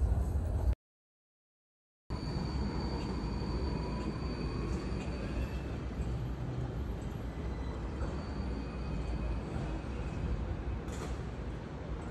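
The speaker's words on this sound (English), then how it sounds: "first cross-country train ride for this trip" Interior of a cross-country train running between Vienna and Bratislava, a steady low rumble of wheels and carriage noise with a faint whine. A short silent gap breaks it near the start.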